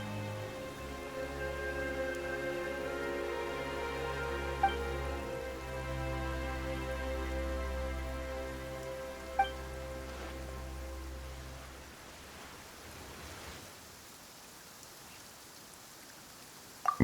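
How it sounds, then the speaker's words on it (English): Rain falls in the video game Genshin Impact, a soft, steady patter beneath sustained orchestral music, with a few faint chime accents and the music thinning out toward the end. "Why is it raining all of a sudden?"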